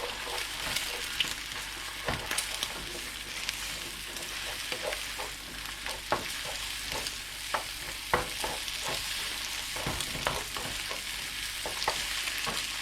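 Eggs cooked with bitter melon sizzle in a hot pan, a continuous frying hiss broken by frequent clicks and scrapes of a utensil stirring, close and steady.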